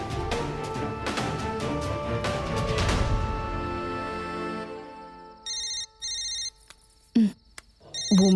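A telephone rings with a bright electronic ringtone, repeating in short regular bursts after a louder stretch of music fades away, close and clear with no talk.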